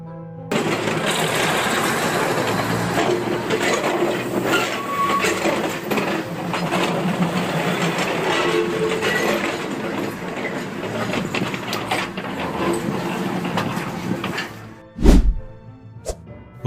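A train rumbles and clatters steadily along the rails for many seconds, loud and close, before a sudden heavy thud of it striking a vehicle near the end, followed by a brief lull.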